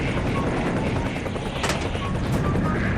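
A plane in the Garry's Mod video game drones with a loud, continuous engine roar inside a house. Faint sharp bursts that sound like gunfire or crashes are mixed in, and no one speaks over it.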